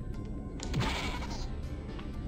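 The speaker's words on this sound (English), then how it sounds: "I think there's a sheep up here" Sheep bleating in Spyro 2: Ripto's Rage, one short, faint wavering bleat in the middle over quiet game ambience.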